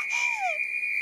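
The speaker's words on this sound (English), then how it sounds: "Wow, that's even louder than your whistling, Lily." A loud old whistle is blown in a cartoon, one shrill sustained tone with a brief sliding pitch early on, heard alone and cleanly.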